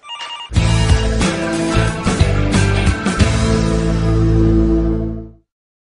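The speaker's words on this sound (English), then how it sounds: "Linda, the phone is ringing" A telephone rings repeatedly in an office, the bright electronic ring loud and close, continuing for several seconds before cutting off, with no talk over it.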